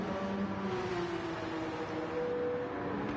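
Racing cars in Gran Turismo, a Porsche overtaking a Renault, make a steady engine drone with shifting tonal whine, moderately loud and continuous, with no voices.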